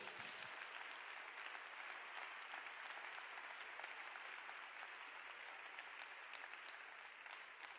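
A church congregation claps for God in a long, sustained round of applause, many hands blending into a steady crackling roar that holds at an even level from start to finish.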